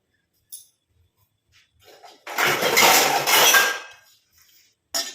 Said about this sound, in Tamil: இப்போ நம்ம இதில் வந்து ஒரு மூடியை போட்டு மூடி வச்சிடலாம்